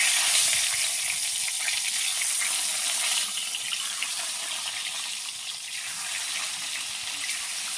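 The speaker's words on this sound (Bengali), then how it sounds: "ডিমগুলো আমি সব ভেজে নেব।" Eggs with turmeric powder frying in a pan, a loud, dense, continuous hiss of sizzling oil heard up close and alone, easing slightly after a few seconds.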